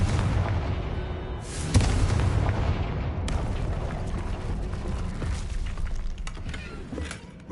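Confringo fire spell blast from the Hogwarts Legacy video game, a sudden deep explosive boom followed by rumbling fiery debris and crackling that slowly fades.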